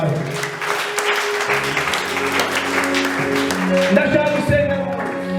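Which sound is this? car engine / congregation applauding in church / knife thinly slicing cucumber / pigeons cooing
congregation applauding in church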